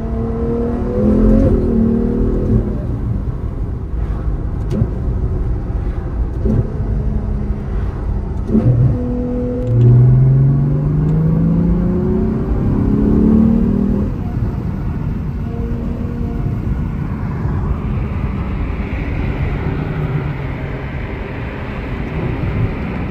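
Ferrari 812 V12 engine revving hard and close, a loud sustained roar that climbs and falls through rising and dropping pitch sweeps, with a brief harsher burst near the end and no talking.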